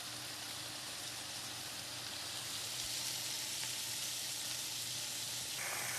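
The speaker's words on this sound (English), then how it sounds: "I'm just going to let them brown. Then I'm going to turn them over, let them brown again" Potatoes brown in a hot pan for a Southern pot roast, giving a steady, even sizzle of frying that stays constant and fairly loud throughout, with no talking.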